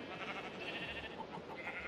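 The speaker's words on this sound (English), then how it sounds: "That's why I built the sheep farm here." Sheep bleating on a sheep farm in a video game, a soft, steady, moderately faint farm-animal ambience without speech.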